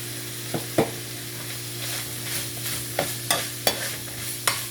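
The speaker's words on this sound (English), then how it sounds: "Let that onion cook in there. I'm going to add a little bit more grapeseed oil." Chopped onion cooks in grapeseed oil in a pan, a steady close sizzle broken by a handful of sharp utensil taps and scrapes as it is stirred, with no voices.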